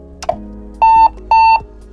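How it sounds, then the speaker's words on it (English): An IBM PCjr computer gives two identical short electronic beeps at power-up, evenly spaced and clear, after a faint click, with no voices. "we only get two beeps out of the system"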